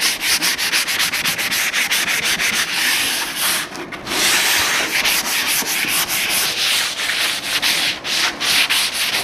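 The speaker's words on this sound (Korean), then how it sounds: "사포를 이용해서 면 정리를 하신 다음에" Sandpaper is rubbed back and forth over a primed interior wall to smooth out rough knife marks, a loud, steady rasping scrub in quick repeated strokes with a brief pause midway and no talk.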